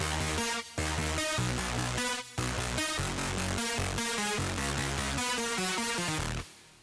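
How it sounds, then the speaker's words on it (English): Distorted progressive synth chords arpeggiated from a drop section, pulsing in dense rhythmic bursts with brief gaps, loud and upfront before the sound cuts off abruptly near the end. "It's just this synth I used is the main sound you hear in the drop"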